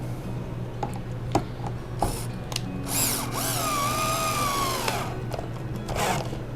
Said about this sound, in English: it'll automatically pre-drill my pilot hole for the next screw hole